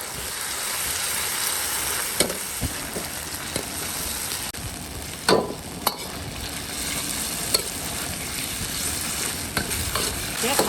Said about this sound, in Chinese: 这是牛肉，牛肉我都喜欢先炒一下